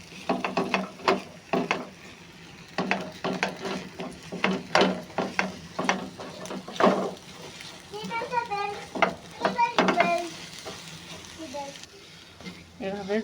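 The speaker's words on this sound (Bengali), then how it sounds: "আমার তেলটা গরম হয়ে গেছে, আমি ডিমটা ঢেলে দিয়েছি। ঢেলে দেওয়ার পরে সঙ্গে সঙ্গে নাড়তে হবে" Beaten egg stirred in hot oil in a pan, with repeated quick scraping strokes and a light sizzle close by, while a person talks over parts of it.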